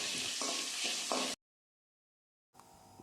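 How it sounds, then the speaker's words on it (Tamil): Spices, including cardamom, sizzle and crackle as they roast in hot sesame oil, stirred now and then, before a sudden silence and a quieter return of sizzling. "நல்லெண்ணெய் ஊற்றி நல்லா வறுத்து எடுத்துக்கணுங்க"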